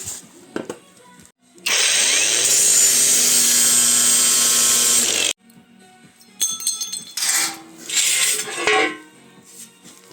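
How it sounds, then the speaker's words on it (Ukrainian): An angle grinder cuts into a hydrophore tank, a loud sustained metallic screech for about four seconds, followed by clanking and scraping of metal and shorter rough bursts. "Беремо болгарку і"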